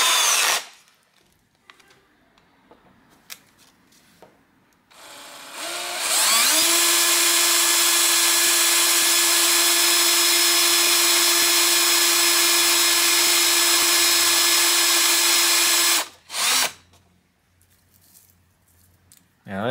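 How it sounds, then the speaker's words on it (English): An electric drill whines steadily for about ten seconds drilling into plastic on a Samsung screen, loud and close, with quiet handling noises before and after. "You could use a smaller drill bit, drill the hole"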